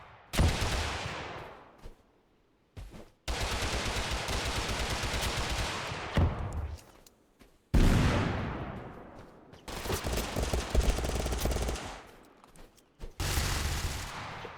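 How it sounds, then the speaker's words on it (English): A minigun roars in the video game Totally Accurate Battlegrounds, loud, dense sustained bursts of rapid fire, several long volleys separated by brief pauses, with no talking over it. "It's a minigun."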